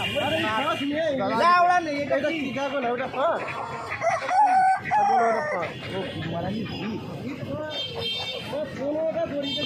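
Desi chickens at the Uluberia hen market cluck and crow in a busy, continuous din, with a rooster's calls rising above the flock and people talking loudly throughout.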